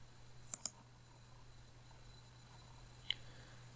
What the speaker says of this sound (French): je vais cliquer sur lancer